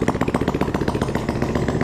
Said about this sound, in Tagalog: Tignan nyo naman ang tunog ng makina guys.